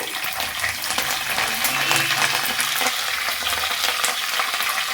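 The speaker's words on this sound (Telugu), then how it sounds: "ఇప్పుడు మనం ఏం చేసుకుందామంటే కరివేపాకు వేసుకుందామండి" Curry leaves dropped into onions frying in hot oil for an onion chicken fry, giving a steady close sizzle and crackle with some stirring and no talk.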